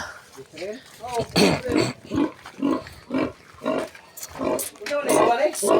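A pig on a farm grunts in short rhythmic bursts, fairly close and loud, with a little background noise.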